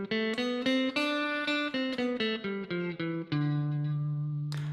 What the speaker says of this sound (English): That's going to be called Dorian mode, and it would sound something like this.